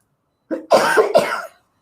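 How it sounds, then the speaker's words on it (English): A few harsh, close coughs in quick succession, bursting out one after another with a throaty rasp, then stopping. "you're just gonna all listen to me cough"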